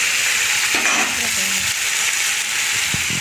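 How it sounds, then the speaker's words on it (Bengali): Pumpkin pieces fry in a pan with cumin and five-spice seeds in a loud, continuous sizzle, with stirring scrapes and a voice briefly talking over it. "কুমড়োটা ভাজা হচ্ছে এখন"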